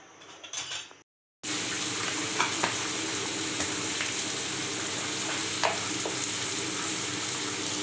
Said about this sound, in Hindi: इसी बर्तन में हम आलू छौंक लेंगे।